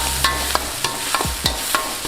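Fish chukka masala gets stirred in a pan, a spoon scraping in quick regular strokes, about eight sharp knocks over a soft sizzle.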